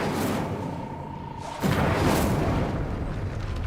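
The Incendio fire spell is cast in Hogwarts Legacy: a sudden whooshing burst of flame flares up and roars steadily over a low rumbling game background, with no talking.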